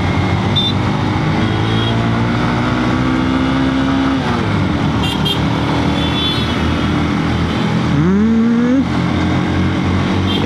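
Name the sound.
Hornet motorcycle riding on a bumpy road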